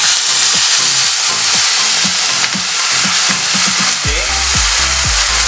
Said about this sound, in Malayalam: ഒരു കപ്പ് ചൂടുവെള്ളം, തിളച്ച വെള്ളം അതുകൂടി നമുക്കിതിലേക്ക് ഒഴിച്ചു കൊടുക്കാം